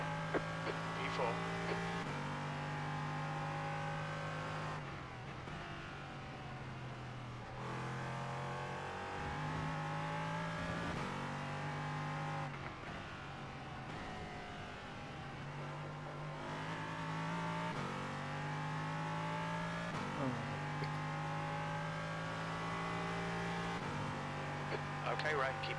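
An LMP3 prototype race car engine drones loudly and steadily at Watkins Glen, shifting pitch with repeated upshifts and downshifts through corners, with faint radio voices barely audible beneath the engine.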